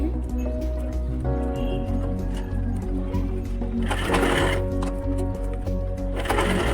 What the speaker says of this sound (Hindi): इस तरीके से आप इसमें स्टिचिंग कर लीजिए